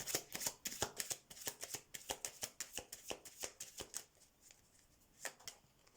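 Oracle cards being shuffled by hand, a quick run of crisp riffling flutters close and soft, pausing briefly near the end before a couple more flicks.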